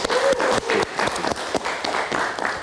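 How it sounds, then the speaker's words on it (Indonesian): A studio audience on a live Indonesian talk show applauds after a film teaser, dense clapping that swells and stays loud throughout with scattered louder hand strikes near the listener. "Kita kasih tepuk tangan"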